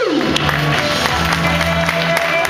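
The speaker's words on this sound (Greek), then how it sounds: "Για δώστε χειροκρότημα γερό." An audience at a cosplay party claps in a dense, steady wash of applause that runs loud for the whole stretch, with crowd noise mixed in.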